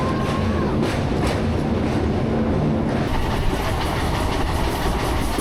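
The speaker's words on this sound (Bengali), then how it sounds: "সাত মিনিট লেটে আমাদের ট্রেন আরণ্যক এক্সপ্রেস এসে পৌঁছালো খড়গপুর জংশনে" The Aranyak Express passenger train rolls steadily along the rails, a loud continuous rumble with rhythmic clatter heard from inside the coach, with no talk.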